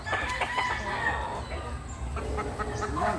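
Texas gamefowl roosters crow loudly and repeatedly among many kept birds, with clucking and other fowl calls mixed in and faint voices in the background.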